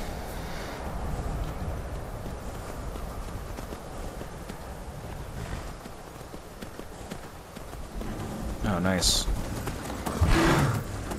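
Horse hooves clip-clop at a steady gait in Skyrim VR, mid-distance under game ambience, while someone speaks briefly; louder impacts and combat noises arrive near the end.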